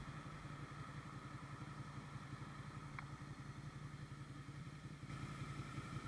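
A Suzuki SV650X motorcycle engine runs steadily with a rapid, even low-pitched pulse, heard up close while riding over constant wind-like noise.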